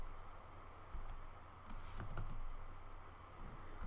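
Someone typing on a computer keyboard, heard as faint, quiet keystrokes in small irregular bursts over a low background hum, with no talking.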